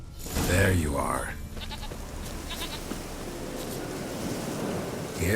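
A goat in the video game The Witcher 3 bleats a few times over a washing, surf-like ambient bed, with a voice speaking alongside the calls.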